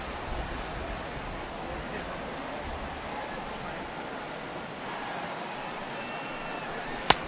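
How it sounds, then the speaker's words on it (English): Rain falling on a baseball stadium during a game, a steady dense hiss of drops throughout, loud and even, with a commentator speaking briefly over it. "the rain starting to intensify here. It's coming down a little heavier now."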